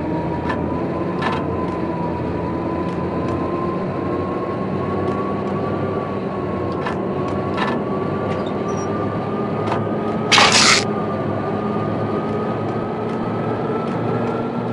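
Train in the Max Payne Mobile game, a steady rumbling drone with a sustained whine, broken by faint periodic clicks and one brief hiss burst near the end, with no talk.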